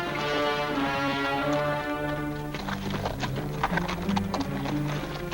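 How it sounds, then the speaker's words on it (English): Horse hooves clip-clop steadily in a rhythmic gait on hard ground in a western TV drama, sounding fairly close over a bed of dramatic orchestral music, with a brief whinny-like note; no talk is heard. "Unless this is Kirby's horse"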